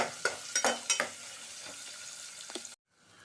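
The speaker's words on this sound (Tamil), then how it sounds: "2 பெரிய வெங்காயம் போட்டு நல்லா வதக்கின்றோம்" Two big onions and a single slit green chili sauté in a pan for a chapathi side dish, a steady close sizzle broken by several sharp stirring scrapes, then cutting off abruptly near the end.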